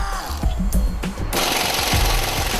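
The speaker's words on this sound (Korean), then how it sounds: "나사를 풀어주는 에어임팩이라는 장비가 전부다" An air impact wrench unscrews bolts while a car is dismantled at a scrapyard, giving rapid hammering bursts in short runs, then a steadier hissing rattle, loud and close.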